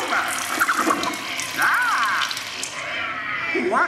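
Water spray effect during the Muppet*Vision 3D theater show, a hissing, splashing gush of water with gurgling tones as character voices and audience reactions sound over it.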